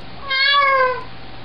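A single cat meows once, a clear rising-and-falling cry of about half a second, close and alone over quiet background.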